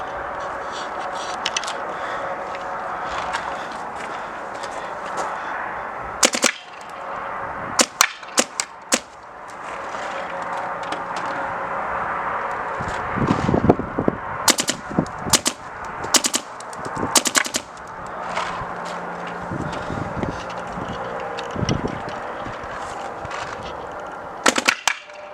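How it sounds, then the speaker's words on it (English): Rapid gunfire from Counter-Strike games (CS2, CS1.5 and CS1), with loud, sharp bursts and single shots repeating close up over a steady background of game noise, with no talking. "all three of the guns shot pretty darn well"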